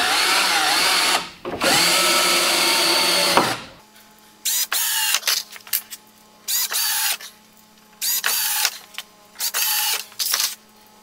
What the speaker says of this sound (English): put some screws flush down into the slats